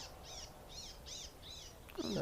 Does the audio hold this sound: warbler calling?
yes